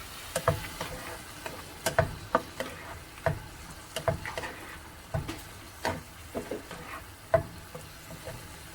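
Jackfruit curry cooking in a pan is stirred with a spoon, giving irregular scraping clacks and knocks over a low, steady sizzle, close and fairly quiet, with no talking.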